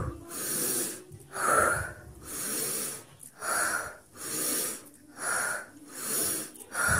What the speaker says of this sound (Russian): Давай дыши глубже.